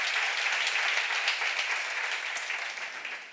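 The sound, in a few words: audience applause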